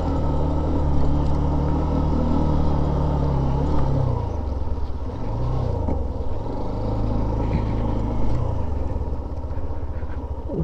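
A motorcycle on a touring ride from Dhaka to Bandarban climbs over a rough, uneven hill road, its engine droning loud and steady throughout with the pitch dipping and rising as the rider works the throttle.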